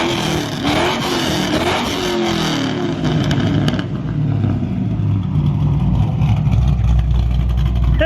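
A straight-piped 2008 Mustang GT exhaust revs hard and then settles into a deep, loud, throbbing idle rumble close by, with a sharp rise and drop in engine pitch partway through.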